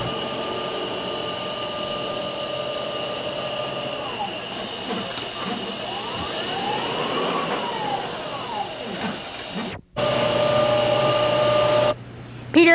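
A two-directional computer sail cutter running in a sailmakers' loft gives a steady mechanical hiss and whine with sweeping tones as the head travels, cutting out abruptly before resuming.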